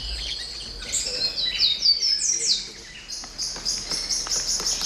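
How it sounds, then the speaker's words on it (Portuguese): Wild birds sing and chirp in the forest of the Salto Morato nature reserve in Paraná, with rapid overlapping high-pitched trills and tweets close by, set against a soft background of insect buzz. "a gente escuta muito canto, né, de passarinho"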